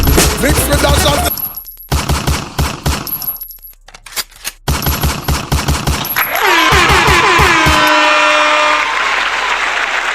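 Gunshot sound effects fire in rapid, loud bursts through a dancehall mix played at a live event, with chopped stop-start rhythms before a sustained, sweeping tone takes over.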